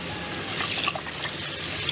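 Mung beans being rinsed in water before boiling, giving a steady, close splashing and trickling wash that runs for the whole moment without pause.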